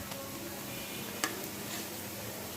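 Onion with ginger paste frying in oil in a pan for a potato chicken curry, a soft continuous sizzle with one brief sharp tick partway through, steady and close, no voices.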